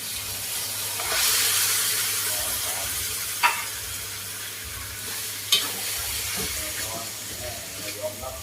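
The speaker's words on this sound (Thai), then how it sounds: "ผัดเผ็ดไก่" Spicy Thai chicken being stir-fried in a pan with chili and pepper: steady loud sizzling and hissing throughout, broken by a few sharp scraping clinks of the spatula against the pan, with no talk over it.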